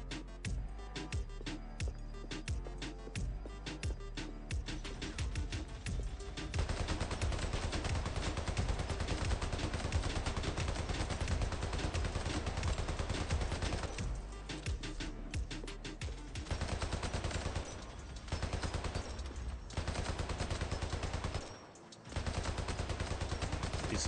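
Sustained automatic gunfire from defensive turrets guarding the hypercore in the toy-soldier shooter Hypercharge: Unboxed, rapid and loud, with dense overlapping bursts and brief lulls, alongside game music.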